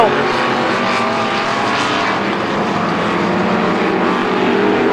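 Strictly Stock race cars at Star Speedway roar together in a steady, dense engine drone from a pack racing close around the oval, loud and continuous with faint crowd and announcer presence underneath.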